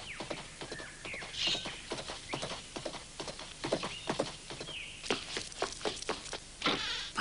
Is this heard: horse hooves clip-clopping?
yes